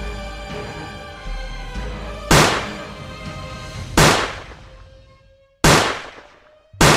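Four loud, sharp gunshots ring out at irregular intervals, each a sudden bang with a decaying echo, over a sustained musical background that fades between the shots.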